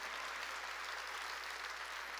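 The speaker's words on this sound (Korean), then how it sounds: "깨달은 사람만 박수 쳐요" A church congregation at a sermon claps together in a faint, distant, steady wash of many hands, heard alone without speech over a low hum.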